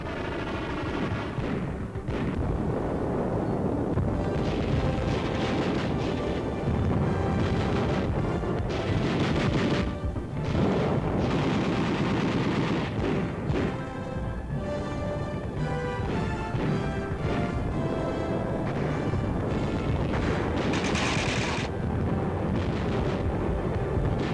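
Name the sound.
gunfire and artillery of troops attacking in training exercise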